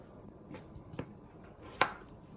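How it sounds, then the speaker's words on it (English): Potatoes being chopped into quarters with a knife in a home kitchen, a few sparse, soft cutting knocks spaced apart over quiet room tone, one sharper chop standing out near the end. "Now we're going to chop the potatoes into quarters."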